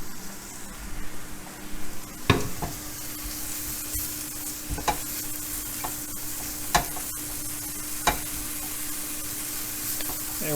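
Sliced mushrooms sauté in oil and butter in a pan, giving a steady close sizzle broken by a few sharp utensil clinks and scrapes, with no voices.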